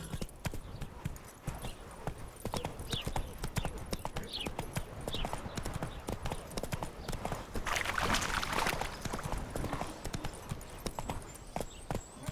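Roach, a horse in the video game The Witcher 3, gallops, its hooves clip-clopping in a rapid, continuous rhythm with some rustling.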